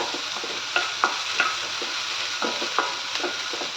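Green chillies frying in hot oil, a steady close sizzle broken by sharp pops and spatters at irregular intervals, with no speech.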